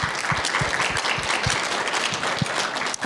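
An audience at a convention event gives a loud, dense round of applause, many hands clapping steadily for a few seconds before it briefly drops off.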